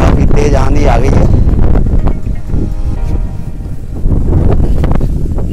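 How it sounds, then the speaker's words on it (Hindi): A strong gusty wind blows across an empty village field beside a well with pump engines, roaring and buffeting the microphone in loud surges while someone talks over it. "ऊपर काफी तेज आंधी आ गई है"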